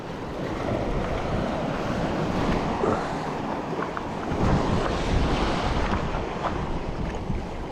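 Sea waves washing onto a rocky shore on the west coast of Scotland at low tide, a continuous loud rushing surge mixed with gusting wind noise, swelling briefly midway.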